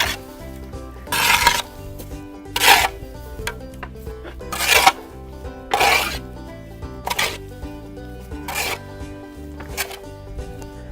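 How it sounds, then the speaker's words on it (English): Compost and leaves mixed together by hand for an urban garden, giving a series of about seven loud, broad scraping rustles at a slow, uneven rhythm over a low musical bed, with no voices. "This is similar to mixing your cement, only you're mixing compost. Leaves, mix them up together."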